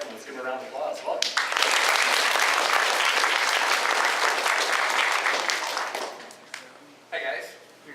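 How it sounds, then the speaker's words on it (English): An audience at a D.A.R.E. graduation ceremony bursts into loud, sustained applause after a voice speaks, the clapping swelling and holding for several seconds before thinning out as talk resumes. "Let's give him a round of applause"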